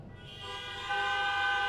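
A large stadium audience at a talk honks horns on request, a dense sustained chorus of toots that swells and grows louder partway through and holds steady to the end.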